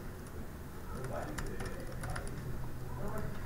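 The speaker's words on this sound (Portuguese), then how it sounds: "Então eu clico apenas com F2, né, e eu vou digitar aqui cadastro de pessoas" Quiet clicking on a computer keyboard, a short run of light, irregular keystrokes tapping close by against soft background noise.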